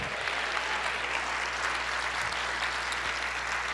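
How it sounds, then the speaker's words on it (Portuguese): A church congregation at a Portuguese-language evangelical service applauds together, a dense, steady wash of clapping that fills the room and continues without a break from start to finish. "Então aplauda ao Senhor, diga: eu creio."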